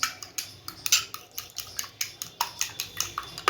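Eggs are beaten with a spoon in a bowl: a quick, steady run of about a dozen sharp metallic clinks, close and alone, with no talking.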